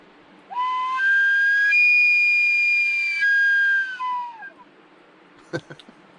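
A whistle blown to imitate an elk bugle gives one long, rising, sustained tone of several seconds that bends upward and then falls away, followed by a few faint clicks.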